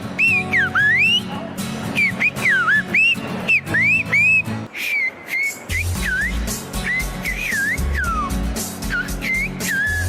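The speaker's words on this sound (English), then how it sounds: "It's a language completely composed of whistles. Here's a clip if you want to hear some." Silbo Gomero, the whistled language of Spain: a run of sliding, melodic whistles rising and falling in pitch, phrase after phrase, over a low background rumble.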